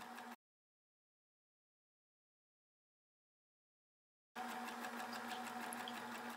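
A sewing machine stitches a baby shoe along a stitch guide, running in a short steady whir, stopping for several seconds of silence, then whirring steadily again up close.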